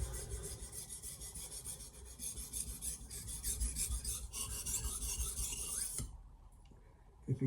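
Steel blade rubbed back and forth across a Sharpel diamond plate sharpening stone, a steady close rasping scrape lasting about six seconds before it stops, leaving faint background noise of children playing in a pool.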